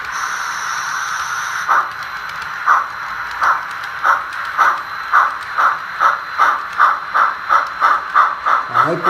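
HO scale model 15F steam locomotive with sound starts moving, giving a steady chuffing that begins slow and speeds into an even rhythmic beat over a constant background hum.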